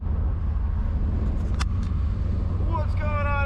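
An LS-swapped Chevrolet S10 pickup truck drives on a hot southern summer day, its engine a steady low rumble throughout with road noise and a brief high whine near the middle.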